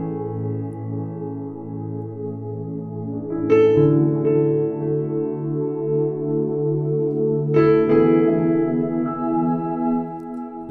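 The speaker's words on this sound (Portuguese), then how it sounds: "Esse é o som do pad" Sustained keyboard synthesizer pad chords swell smoothly and evenly throughout, shifting harmony twice at moderate loudness with no voices.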